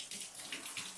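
Water running steadily while hair is rinsed out, a soft continuous splashing hiss close by with faint droplet patter.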